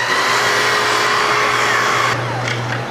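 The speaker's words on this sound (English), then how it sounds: "Now I'm going to pull the saw in this direction." A miter saw slices through crown molding set at a 15-degree angle, its motor whining steadily and loudly throughout before the pitch sags slightly near the end as the blade finishes the cut.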